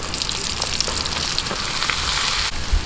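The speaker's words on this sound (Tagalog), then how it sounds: "Okay, prituhin na po natin. Ayan, mainit na po yung ating mantika. Lagyan na po natin." Chicken intestine (isaw), a Filipino street food, fries in hot oil with a loud, steady, close sizzle and crackle throughout, with no talking.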